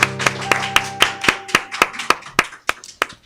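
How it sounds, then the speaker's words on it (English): Sharp claps in a steady, even rhythm, about four per second, with a faint sustained tone underneath. "But a nice round of applause for Vince Cantor."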